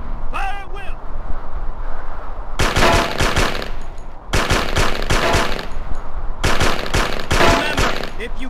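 Bursts of rapid automatic fire from a Tommy gun in World at War on the Nintendo DS. Three long, loud volleys are separated by pauses, with a voice heard before the first burst.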